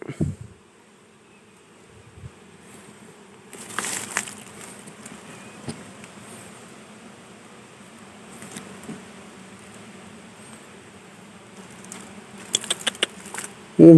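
A swarm of dwarf honeybees buzzes around a large wild nest found outdoors, a steady close hum with louder bursts as the bees stir, plus occasional rustling handling sounds.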